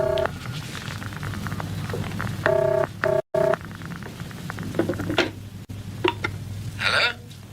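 A series of electronic telephone keypad tones beeps in quick groups, mixed with clicks and soft tapping over a low background hum.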